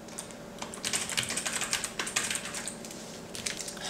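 Typing on a computer keyboard, a steady run of light clicking keystrokes in a quiet room, with no voices.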